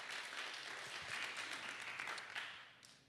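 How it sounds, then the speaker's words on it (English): A small audience at a talk gives a round of applause, a dense faint patter of clapping hands that swells slightly and then tapers off near the end. "a round of applause for Josh."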